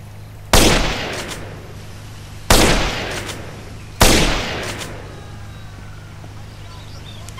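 Sniper rifle shots from a GTA San Andreas weapon mod: three loud, sharp reports spaced a couple of seconds apart, each trailing off in a long echoing decay over low background hum.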